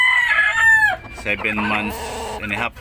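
An eight-month-old rooster crows loudly and close by, with a long strained call trailing off, followed by someone speaking briefly as clucking and other farm fowl sounds continue underneath.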